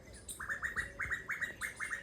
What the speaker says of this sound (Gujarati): કોયલ બોલે છે